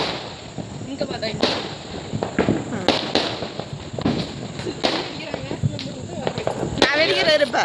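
Firecrackers burst outdoors in sharp, loud pops that come irregularly every second or so. People talk in Tamil in between and over the bangs.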